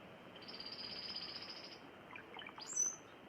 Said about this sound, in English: that sounds a lot like a red-winged blackbird